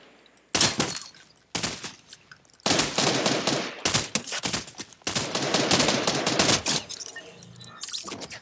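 Rapid bursts of gunfire in the video game Fortnite, several loud, close volleys of repeated shots with brief gaps between them and faint game sounds in the pauses.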